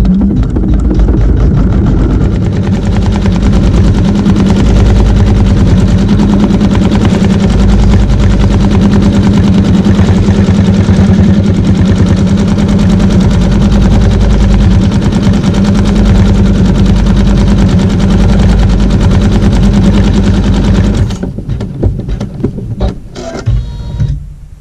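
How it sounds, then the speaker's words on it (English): An embroidery machine sews an applique placement stitch for a Fleur de Lis quilt block, a loud, steady rapid mechanical chatter that runs unbroken for about twenty seconds before stopping, leaving faint clicks and handling noise. "Sewing a placement stitch for our applique."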